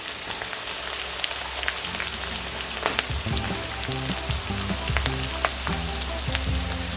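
Curry leaves and dried onions frying in hot oil, a steady close crackling sizzle with scattered pops and faint stirring throughout, no talk.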